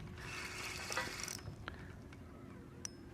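A fishing reel's drag is tightened while out fishing for smallmouth bass, a quiet rapid ratcheting click run lasting over a second, followed by a few isolated faint clicks.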